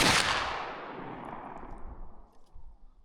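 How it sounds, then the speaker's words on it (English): A single boom from a black powder muzzle-loading rifle cracks loudly at the start, then a long rumbling echo rolls away and fades over a few seconds outdoors. "This is my black powder muzzle loader rifle"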